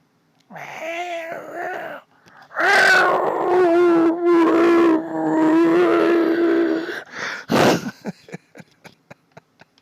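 A voice imitates the howl of a dog man creature: drawn-out, wavering, groaning howls in several long bursts, loud and close, followed by scattered clicks and knocks.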